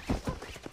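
Horse hooves clip-clopping in Red Dead Redemption, a few close, distinct hoofbeats in an uneven rhythm against a quiet game background.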